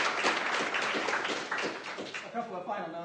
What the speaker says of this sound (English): Let's give Dr. Mantovani a final round of applause